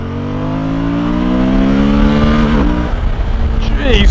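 A 2023 Suzuki V-Strom 1050DE motorcycle engine revs up loudly and steadily while overtaking, pitch climbing as it accelerates, then dropping off as gears shift, with wind buffeting nearby.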